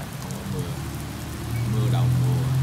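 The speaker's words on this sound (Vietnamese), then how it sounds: "Chỗ này thì mưa rồi, chỗ này gần biển mà mưa" Rain falls steadily near the sea, a dense continuous patter that builds slightly louder toward the end, with a low steady hum underneath.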